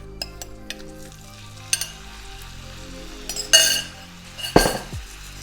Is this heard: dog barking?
no